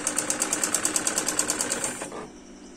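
A sewing machine stitching a salwar runs in a fast, even rhythmic chatter close by, then winds down and stops near the end.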